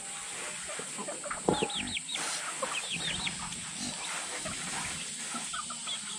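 Chickens cluck and call repeatedly in a rural hillside village setting, with short chirpy calls scattered over a steady background hum, fairly close but moderate in level.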